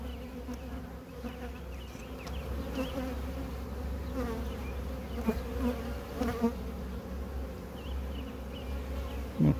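Honey bees buzz steadily around an open queenless hive, a dense drone close by with individual bees swelling louder as they pass, plus faint handling knocks.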